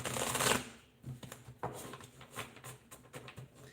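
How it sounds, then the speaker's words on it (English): A deck of tarot cards being shuffled by hand, a loud riffle burst at first and then a run of softer, irregular card slides and taps close by, with no talking. "I'm going to shuffle these again because they're the same cards that just came up for Elaine"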